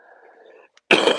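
A single harsh cough bursts out loudly near the end after a brief quiet moment at Mont Saint-Michel, preceded by a faint low hum.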